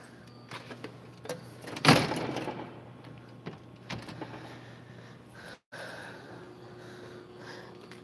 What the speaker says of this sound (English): just checking these doors real quick.